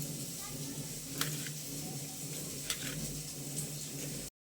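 Potatoes fry in hot oil with a quiet, constant sizzle and crackle. A few sharp clicks of a utensil stirring the pan stand out briefly.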